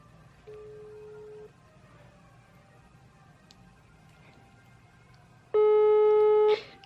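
During a prank phone call, a steady electronic call tone sounds for about a second, then after a pause a much louder, harsher telephone tone blares for about a second, with no talk over it.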